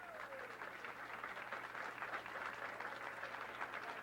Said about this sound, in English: That applause is for you, and well-deserved.